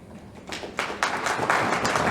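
Audience applause at a Rotary club training event, clapping that swells from a few scattered hands into steady, fairly loud applause filling the room.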